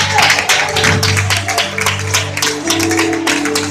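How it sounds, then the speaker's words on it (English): A church congregation at a conference in the Philippines claps in praise, a dense, continuous burst of many hands alongside music and voices. "Let's put that hand clap of praise unto the Lord"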